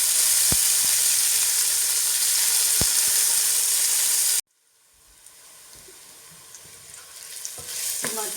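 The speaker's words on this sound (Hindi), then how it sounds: "ऑयल गरम किया आधा कप और इसमें 2 अदद टमाटर डाल दिए" Two tomatoes sizzle and fry in half a cup of hot oil, a loud continuous hiss with occasional pops that drops off abruptly, then softer sizzling builds back up.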